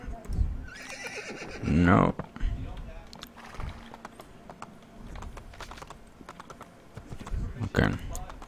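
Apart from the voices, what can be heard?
horse neighing and galloping in Assassin's Creed II video game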